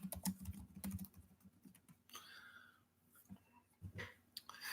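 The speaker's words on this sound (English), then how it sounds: "I'll type that in here" Typing on a computer keyboard in short bursts of clicks, fairly close and soft, with pauses and faint breathing between runs.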